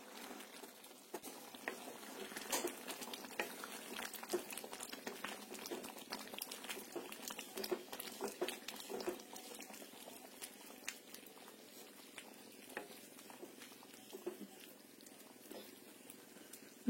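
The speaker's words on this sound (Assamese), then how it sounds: "এতিয়া ভালদৰে উতলিবলৈ দিব।" A mixture with cumin paste bubbles gently in a pot, a soft, continuous patter of small pops heard up close and fairly quiet.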